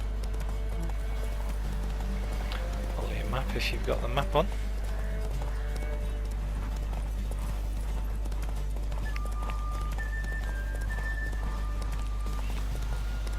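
A horse gallops during a race in Witcher 3, its rhythmic clip-clop hoofbeats running under steady game ambience while someone talks over most of the stretch.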